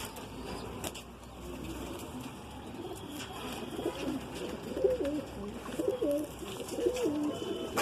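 Paired Madrasi pigeons coo in a loft, with soft repeated throaty calls rising over a steady hum of background noise, growing more frequent toward the end.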